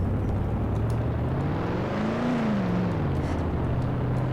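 A car engine in Garry's Mod from a Simfphys vehicle mod, a continuous droning motor that rises in pitch briefly and then settles back, steady and fairly loud with no talk.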